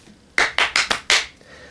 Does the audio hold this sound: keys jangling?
no